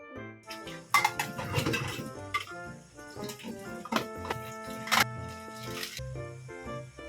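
Dishes, pots and cutlery clink and clatter while being washed at a kitchen sink, with scattered sharp knocks over a steady wash of running water and sloshing, close and moderately loud.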